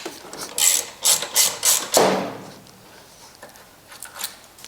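A ratchet wrench clicks in several short, loud bursts while backing a bolt out of a Honda Ruckus scooter, followed by a metallic clunk and quieter handling sounds.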